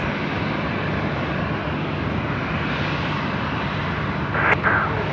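A Dash 8 turboprop departing at Sydney Airport at night under heavy throttle, a broad, steady engine roar that fills the whole stretch, heard from a distance with a faint whine swelling near the end.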